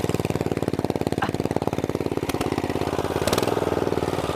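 Mini bike engine revving steadily with a sticking throttle while riding a field-side bike path, a loud, close, rapid pulsing drone that holds high without settling, with no talking.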